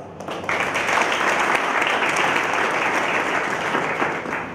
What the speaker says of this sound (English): I think it needs an applause.